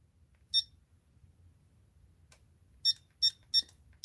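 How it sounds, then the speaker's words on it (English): A timer used while sewing fabric clusters gives short, sharp, high electronic beeps: one, then a cluster of three in quick succession, each clear against a quiet room. "I'm getting used to this timer thing"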